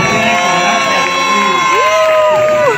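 Crowd cheering and shouting at a carnival concert in Puerto del Carmen, Lanzarote, a loud dense roar of voices with whoops and sustained tones over it, filling the whole stretch.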